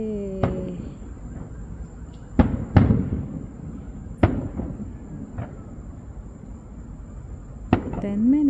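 Fireworks exploding at a night show at a ballpark stadium: several sharp, loud booms and crackling bursts spaced irregularly, with faint background voices between blasts.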